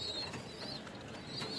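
A female pigeon coos softly in a loft, a faint, low murmuring call over quiet background noise, brief and alone.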